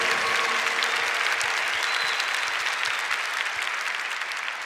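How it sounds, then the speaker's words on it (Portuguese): A church congregation claps together in sustained, dense applause, a steady crackling wash of many hands that holds at full strength and tapers only slightly toward the end. "Vamos aplaudir para valer o Espírito Santo, nosso Deus."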